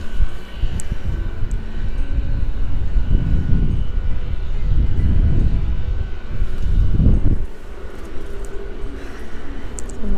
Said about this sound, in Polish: Tu mamy lokomotywę odpaloną.